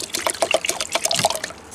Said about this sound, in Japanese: 今日は2号炊きなんで下の線まで水を入れます